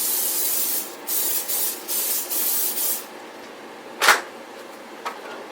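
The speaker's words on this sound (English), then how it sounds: "I'm going to go ahead and spray my pan." Several short bursts of cooking spray hiss onto a pan in quick succession, then a pause and a single louder spritz, with a faint tap after.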